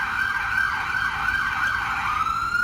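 Ambulance siren passing on a street, a loud wailing tone sweeping up and down in a steady cycle over road traffic rumble, with no talking.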